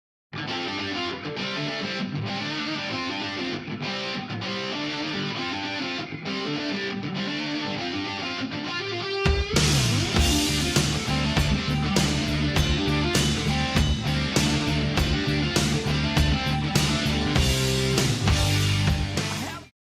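A distorted glam metal electric guitar riff plays alone at first, then a full band with pounding drums crashes in halfway, loud and driving.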